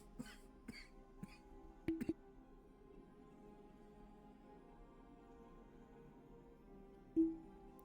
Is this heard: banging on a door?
no